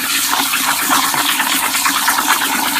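Crystal reef sand is stirred and rinsed in water, making a loud, continuous rushing and sloshing swirl with no pauses.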